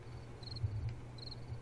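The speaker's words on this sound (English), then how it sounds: "there's only the ambient sound of crickets" Night-time cricket ambience in the survival game 7 Days to Die: soft, faint chirps in short repeated pulses over a low steady hum, with no other sounds.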